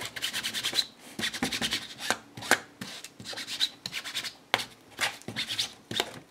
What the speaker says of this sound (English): Just rubbing it on those pages.